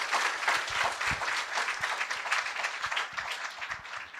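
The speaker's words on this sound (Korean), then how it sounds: "하객 여러분들께서는 공로패 받으신 분들께 다시 한번 따뜻한 박수 부탁드리겠습니다." Guests at a 60th-anniversary celebration applaud award recipients, a soft, continuous wash of many hands clapping in a hall, steady and somewhat distant with no talking.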